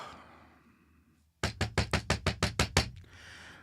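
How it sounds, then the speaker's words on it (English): A delivery driver pounds on a door, nine loud, evenly spaced knocks in quick succession after a quiet stretch, followed by faint room noise. "the Amazon guy showed up to pound on the door."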